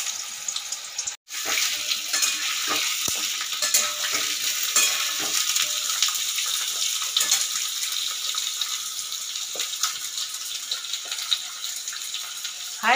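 Potato pieces frying on a high flame, a steady close sizzle with faint stirring clicks running throughout, briefly interrupted near the start.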